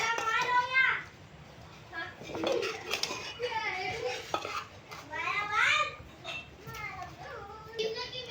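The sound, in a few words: stirring mango pickle with chili powder in a bowl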